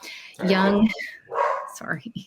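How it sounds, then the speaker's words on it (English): A dog barks a few times in the background, apparently at another dog walking past on the street, with a person talking over and between the barks indoors. "It's probably another dog walking down the street."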